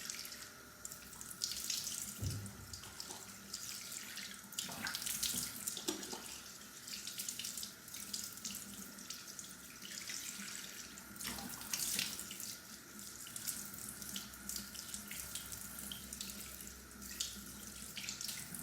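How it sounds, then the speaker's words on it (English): Bathroom faucet running water into a sink while a face mask is rinsed off skin, a continuous steady gush with occasional splashes from hands, close and moderately loud with no talk. "Let me rinse this off"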